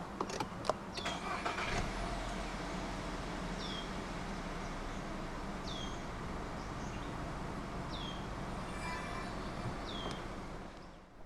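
A 2019 Proton X70 1.8 TGDi 2WD Premium started by push button: a brief starter crank near the start, then a steady, faint engine idle with a few soft chirps over it.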